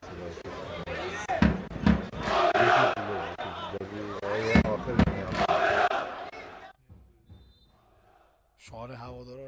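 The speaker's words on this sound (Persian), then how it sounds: "شعار هوادارا رو هم میشنوید که" Damash team supporters chant loudly in unison from the stands during a match, a rhythmic, sustained wall of massed voices with sharp thuds. They break off briefly near the end, then the chant surges back.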